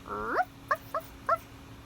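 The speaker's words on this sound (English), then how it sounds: "I can hear a dog barking." A small dog gives a drawn-out whine followed by three short yips, fairly faint and spaced apart.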